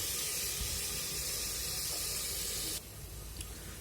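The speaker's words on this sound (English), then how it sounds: "So now these all things are ready, it's frying" Steady sizzling hiss of paneer tikka biryani ingredients frying in a pan, close up, dropping abruptly in level partway through, with no talking.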